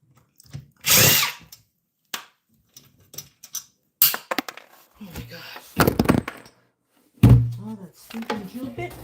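A power drill with a drill bit whirs in several short bursts, near and fairly loud, separated by pauses, thumps and handling noise, with a person talking in between.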